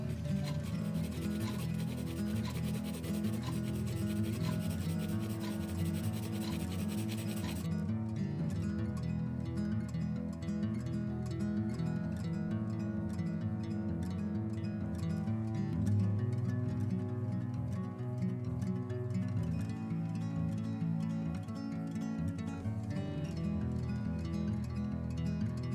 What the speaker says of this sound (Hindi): नाउ मैं 2B पेंसिल की हेल्प से हल्की सी इसमें शेडिंग कर रहा हूँ।